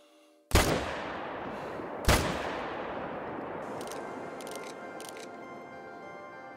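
Two loud rifle shots ring out while hunting in a game, each a sharp crack followed by a long fading echoing tail, spaced about one and a half seconds apart, then a few faint clicks.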